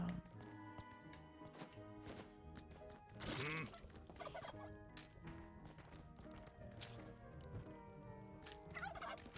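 Repeated turkey gobbles from the video game Spelunky 2 ring out over game music and effects, a burst of rapid gobbling calls up front and clear throughout, with no talking.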